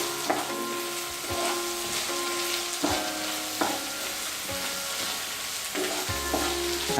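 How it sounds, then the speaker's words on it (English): Onions fry for an onion tomato curry, sizzling steadily and loudly in a pan while a utensil stirs them, scraping and clattering at intervals throughout. "now try to mix it properly once again and make sure that once the onions are nicely fried"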